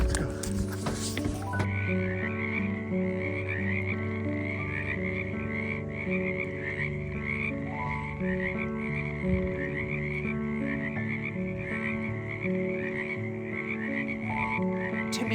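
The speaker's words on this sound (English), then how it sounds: "you start to hear the frog songs" A spring chorus of frogs on a flower farm croaks in steady, overlapping, pulsing calls that carry on without pause for about fifteen seconds. Faint sounds that may be voices sit low underneath.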